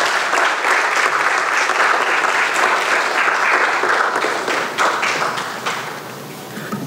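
An audience applauds at a Ghanaian graduate students' association research fund event, steady, dense clapping from a sizable crowd that holds strong and then gradually fades toward the close.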